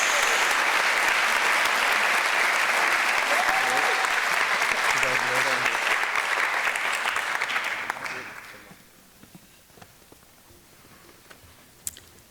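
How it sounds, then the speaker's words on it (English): A school awards audience claps loudly for the 2015 St. Helens High School Office Systems Student of the Year, the applause holding strong for about eight seconds before fading into scattered claps and near quiet. "Please give a round of applause for the 2015 St. Helens High School Office Systems Student of the Year, Brandon Jones."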